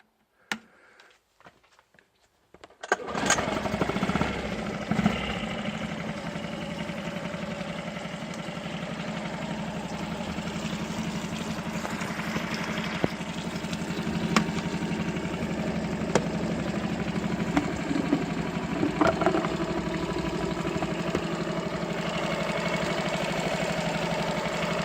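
A 2006 Yamaha 4hp four-stroke long-shaft outboard motor starts after a few seconds of near silence, then runs steadily at idle with a constant mid-pitched drone for the rest of the clip, close and alone.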